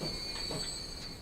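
A steam train running in the Transport Fever game, a faint steady rolling rumble with soft rhythmic chuffs and a thin high whine over it, brief and distant-sounding.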